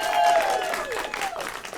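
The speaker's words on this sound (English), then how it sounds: "The live studio audience, give yourself a round of applause." Brief studio audience applause on a late-night talk show set, a short burst of clapping and crowd noise mixed with tonal whistling sounds over under two seconds.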